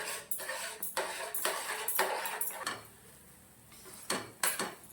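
Halwa in ghee is stirred and scraped around a pan, giving repeated close clattering strokes of a spoon against metal with short quiet gaps between bursts.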